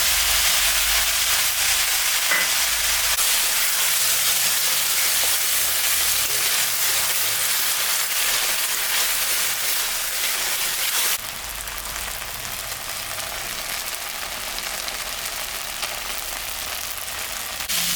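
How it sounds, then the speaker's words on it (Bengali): A spice paste of ground garlic, ginger, cumin and coriander, with salt and turmeric, fries in a pan for a katla fish-head dish. It gives a continuous close, dense sizzle that eases slightly partway through. "মশলাটা ভাজা হয়ে গেছে"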